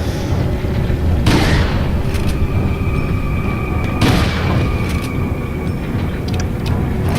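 A shotgun fires twice in Resident Evil 4 HD, each shot a loud booming blast spaced a few seconds apart, with mechanical clicks between them over a constant heavy rumble of background noise.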